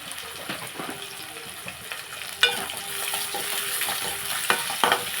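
Onions fry in a pan for a bottle gourd milk curry, a soft, constant sizzle under intermittent stirring clatter and scraping, with a few sharper knocks near the end. Nobody speaks.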